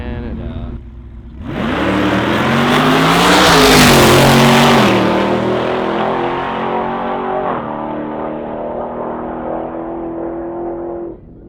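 A Dodge Hellcat muscle car engine roars loudly, climbing sharply in pitch as it accelerates hard, then holds a sustained high-revving drone for several seconds before cutting off abruptly.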